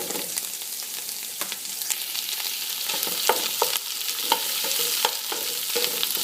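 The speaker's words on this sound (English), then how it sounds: "I'm gonna fry that up a little bit." Tomato paste frying with smoked ham in a pan for Dominican-style rice and beans, with a continuous close sizzle and repeated light scrapes and taps of a stirring utensil.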